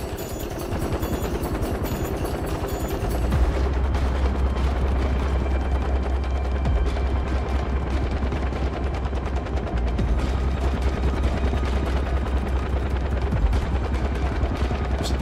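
Sustained automatic machine gun fire in the video game Far Cry 4 at a labor camp, a dense rattling burst running nearly continuously for about twelve seconds with a deep low rumble underneath, loud and with no talking.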